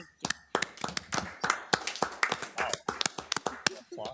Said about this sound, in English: Applause. That's awesome.